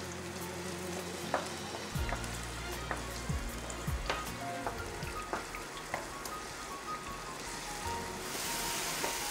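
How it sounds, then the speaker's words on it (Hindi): Spinach kofta curry paste frying in a pan while being stirred, giving a steady close sizzle with sharp spoon scrapes and taps. "इसमें पेस्ट डालेंगे। इसको एक मिनट तक हम इसको भूनेंगे चलाते हुए"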